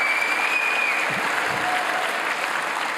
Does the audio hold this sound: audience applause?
yes